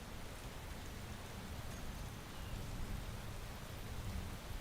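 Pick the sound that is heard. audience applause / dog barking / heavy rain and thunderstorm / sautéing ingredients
heavy rain and thunderstorm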